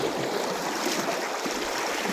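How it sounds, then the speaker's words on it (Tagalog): Knee-deep water sloshes and splashes steadily as someone wades across a river on foot, a continuous broadband rush of moving water close by with no talking. "tumatawid po ako dito sa ilog mga guys"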